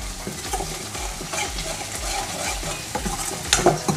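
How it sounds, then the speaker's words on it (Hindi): Steady scraping and stirring of tempering spices for rajma masala in a hot pan over continuous sizzling oil, with a few louder clinks of the spoon near the end. "अब इसको सिर्फ 1 मिनट के लिए और हिलाएंगे।"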